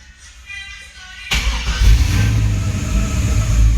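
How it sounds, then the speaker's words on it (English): A 1972 Chevrolet Cutlass engine fitted with Holley Terminator X Max fuel injection cranks and fires about a second in, then settles into a loud, close, rumbling idle. "the car starts right up"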